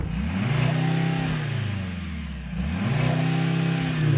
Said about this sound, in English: I'm going to rev this car up.